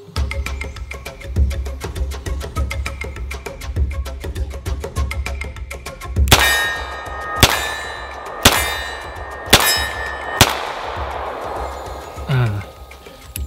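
Several sharp metallic clangs ring out from a steel target struck by shots from a stainless Beretta 92FS pistol, five spaced impacts over steady background noise, each with a bright ringing decay.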